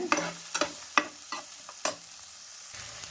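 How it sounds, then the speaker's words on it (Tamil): Sliced onions sautéing in a pan while being stirred: a soft background sizzle broken by several sharp spatula scrapes and taps against the metal, close and fairly quiet, with no one talking. "இப்போ வெங்காயம் நல்லா வதக்கட்டுங்க"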